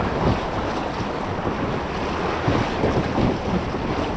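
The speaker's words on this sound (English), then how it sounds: "Getting splashed a bit." Whitewater on the river Vilnia in Vilnius rushes and splashes steadily while paddling, with wind buffeting the microphone and no voices.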